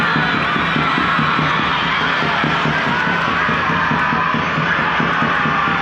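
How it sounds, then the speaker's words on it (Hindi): Dense, steady crowd noise fills a school annual-function hall as the audience applauds and cheers for the four houses, a loud continuous wash with scattered whoops throughout. "जोरदार तालियां बजाएं चारों हाउस के लिए।"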